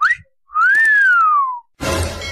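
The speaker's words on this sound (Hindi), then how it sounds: "कौन सीटी मार रहा है?" A person whistling: a rising note then a long bright tone that slowly glides downward, clear and close, followed by a burst of broadband noise.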